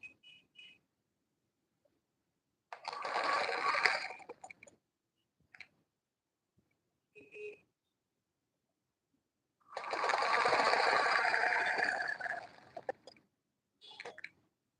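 A sewing machine stitches lining onto the hem of an Ankara skirt in two separate runs of a couple of seconds each, with a few light clicks and quiet pauses around them.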